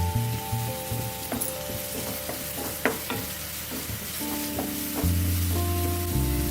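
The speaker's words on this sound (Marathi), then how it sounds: "थोडं तेल गरम झालेलं आहे। ह्याच्यामध्ये घालून घेतो बारीक चॉप करून घेतलेला कांदा" Finely chopped onion frying in hot oil in a pan, a steady close sizzle broken by repeated stirring scrapes and clinks, with a low hum running underneath throughout.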